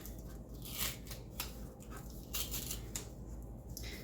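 Scissors snip through Close to My Heart cardstock in a quiet series of short crisp cuts, each blade stroke a brief papery slice with small pauses between them.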